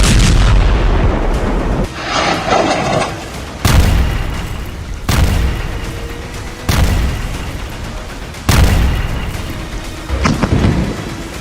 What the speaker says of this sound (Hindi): इजरायल के तूफानी हवाई हमलों में बमों के धमाके ऐसे इमारतों को उड़ा रहे हैं